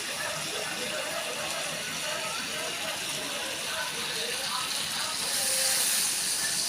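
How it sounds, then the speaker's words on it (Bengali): Water is poured into a hot pan for a hilsa fish curry with eggplant and potato, making a steady, close hiss that swells louder near the end. "দেখুন, এর মধ্যে দিয়ে দেব জল।"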